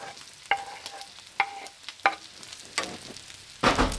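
Mushrooms frying in a skillet at 350 degrees with bacon fat and onions, a close crackling sizzle broken by sharp scrapes and clacks of a stirring utensil, with no talk.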